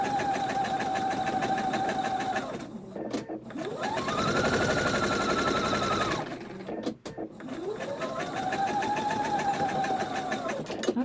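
A sewing machine runs fast in long buzzing stretches, its motor pitch rising and falling as it speeds up and slows, with brief stops between runs, close and steady.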